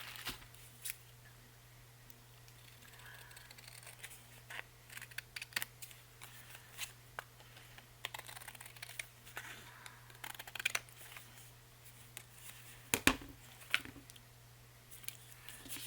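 Scissors snip and crunch through paper in scattered, uneven bursts, close and fairly quiet, with a low steady hum underneath.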